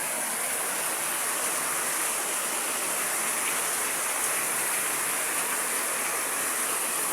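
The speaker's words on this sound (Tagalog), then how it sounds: "Hala ka, ang dami na pumapasok na tubig." A large volume of water flows in steadily with a loud, continuous broadband rush like a torrent or heavy downpour. It holds at an even level throughout, with no voices over it.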